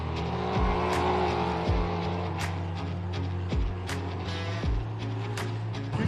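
An off-road race car at a desert endurance race roars past close by, engine revving and surging with repeated gear-change dips, loud and continuous.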